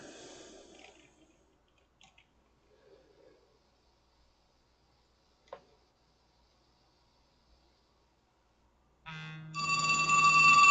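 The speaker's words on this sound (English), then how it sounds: "Oh, and there's a phone call." An incoming call's ringtone on a phone starts abruptly near the end, a loud repeating electronic melody with a low buzz underneath, following a long near-silent stretch with faint rustles and a brief click.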